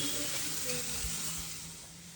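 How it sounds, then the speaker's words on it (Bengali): Eggplant slices frying in a pan, giving a loud, close, continuous sizzle that eases slightly toward the end. "এখানে দিদি বেগুন ভাজা করছে"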